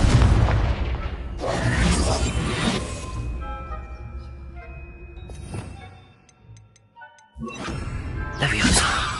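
Confringo spell explosions in a video game: several heavy booming blasts burst out at intervals, each flaring then fading, with a brief quiet lull before a final loud eruption.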